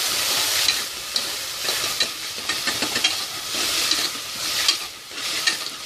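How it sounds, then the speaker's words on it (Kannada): Ginger garlic paste fries in oil for chana masala, a loud, dense sizzle and crackle with repeated stirring scrapes throughout, close and without any talking. "ಚೆನ್ನಾಗಿ ಫ್ರೈ ಮಾಡ್ಕೊತಾ ಇದ್ದೀನಿ"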